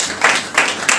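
A church congregation claps at a family retreat in a short, loud burst: three distinct pulses of hand claps, close and clear, with no talking.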